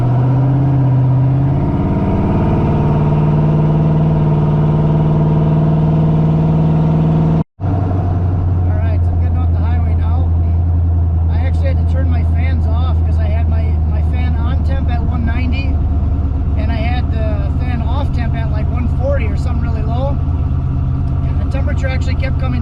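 A car on a test drive through highway and city roads, its engine droning steadily and loudly from inside the cabin, shifting pitch after a brief cut partway through as the car accelerates.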